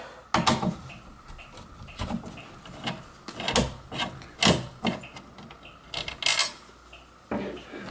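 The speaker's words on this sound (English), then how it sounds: "Now Dylan is going to remove the bonding screw." Metal bonding screw being worked out of an electrical sub panel, a run of scraping, clicking and rubbing bursts at uneven intervals, close by, with no talking.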